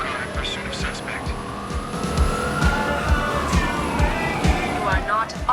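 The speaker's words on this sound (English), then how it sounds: "We've got a patrol car in pursuit of suspect." Car engines roaring and a police siren wailing during a pursuit in Watch Dogs 2, continuous loud traffic noise with a rising and falling siren under game dialogue.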